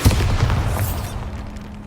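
A loud Bombarda spell blast in Hogwarts Legacy, a heavy booming explosion that hits at once with a rumbling crackle and then fades over about a second.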